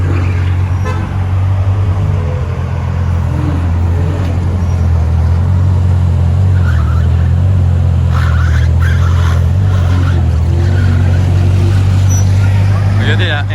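Convoy of supercars including a Lamborghini, Bugatti Chiron and Bentley on the Place du Casino in Monaco, with a loud, continuous low engine rumble, a horn toot and excited voices over the traffic.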